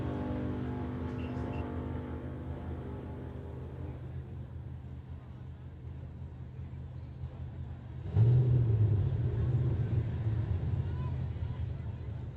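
A 1967 Chevy II doorslammer drag car at a drag strip, its engine rumbling steadily before swelling abruptly into a louder, fuller roar partway through the run.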